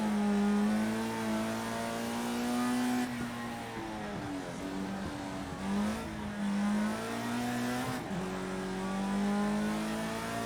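A Formula Rookie open-wheel race car in Project Cars 2 screams down a straight, its high engine whine climbing and then dropping at each of several quick upshifts, loud and continuous with no voices.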